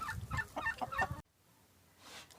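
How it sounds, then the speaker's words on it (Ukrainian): Hens sitting in a coop cluck in a quick, close run of soft calls that stops abruptly, leaving a faint, quiet background. "Курочки сидять"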